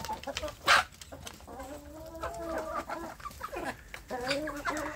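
Young free-range village chickens cluck and chirp in a rearing pen, a steady stream of overlapping calls with one sharp louder squawk early on, fairly close.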